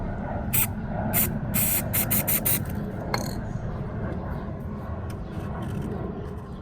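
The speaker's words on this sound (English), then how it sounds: "So just like that, spray some out" Hissing aerosol spray from a can of black spray paint for a GM dashboard repair, steady airy rush throughout, punctuated by several short bursts early on, close to the microphone.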